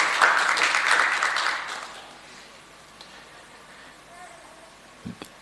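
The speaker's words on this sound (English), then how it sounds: "A round of applause for him as well." An audience at a national dialogue on the right to food in Malawi claps loudly for about two seconds. The clapping then fades into a quiet room with faint stray noises.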